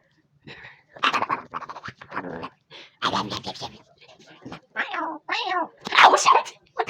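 A kitten meows and caterwauls in a run of loud, close, drawn-out yowls and cries separated by short pauses, with squeaky rising and falling tones.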